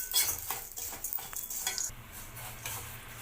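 Moong dal roasts in a pan for halwa while a spoon stirs it, a soft dry sizzle broken by quick scraping strokes, close and fairly quiet, no voice present.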